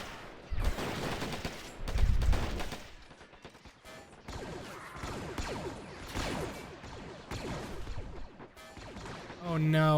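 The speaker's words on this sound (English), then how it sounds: "look at how many shots are just hitting this little mountain here" Dense volleys of blaster and rifle fire with crashing impacts from a Star Wars modded Men of War battle on Tatooine, shots striking a small rocky hill; bursts overlap continuously at moderate loudness with a louder burst near the start.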